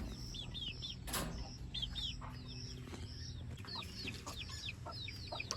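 Chickens at a farm cluck and chirp in repeated short calls against a quiet background, with a burst of wing flapping early on, close and moderately soft.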